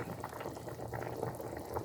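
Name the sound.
meat pepper soup boiling in a pot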